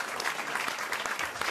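A studio audience at a French radio comedy show claps in steady, dense applause for a moment.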